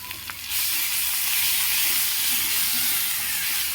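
Chopped onion goes into hot oil already holding ginger, garlic and salt in a home kitchen pan. After a brief quiet moment, a loud, steady sizzle erupts and carries on unbroken.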